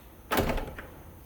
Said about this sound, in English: this is the driver's door